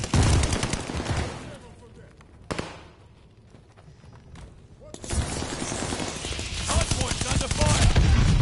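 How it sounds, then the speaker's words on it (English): Rapid automatic gunfire rattles around a hardpoint in a multiplayer shooter on PS4, loud bursts at the start, a quieter stretch with a single sharp shot, then dense sustained firing that builds toward the end. "Hardpoint's under fire."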